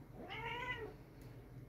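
A pet cat meows once in a drawn-out, rising and falling call, close and clear against a quiet indoor background.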